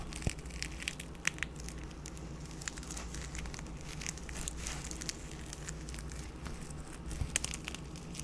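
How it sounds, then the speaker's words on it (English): A close, rough ripping and crackling noise of Velcro being pulled apart goes on for several seconds, with grainy bursts. "I like the sound of the Velcro."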